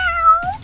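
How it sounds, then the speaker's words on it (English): A kitten gives a single clear, drawn-out meow close by, rising slightly and then falling away, followed by a short soft rustle with no voices. "Yeah, that's a kitty."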